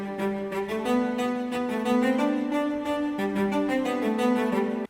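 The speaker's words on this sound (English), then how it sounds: "This is just one cello, which sounds like this." A single cello playing a bowed line of sustained, smoothly connected mid-low notes, warm and steady at moderate volume, alone with no other instruments or talk, ending abruptly.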